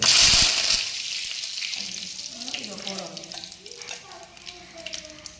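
Oil with fennel seeds and curry leaves hits a hot pan in a village kitchen, bursting into a loud sizzle that settles into a steady frying crackle, with voices faintly underneath.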